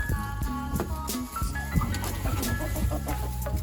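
Several chickens cluck and chatter close by, steady and overlapping, with a busy farmyard background and occasional soft knocks, as they are brought feed and hay.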